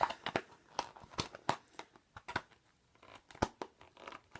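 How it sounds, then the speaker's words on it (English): Small scissors cut through splint material for a foal's contracted tendon in a string of sharp, quiet snips and crinkles, irregularly spaced and close, with no speech. "I'm gonna cut this one with the little scissors"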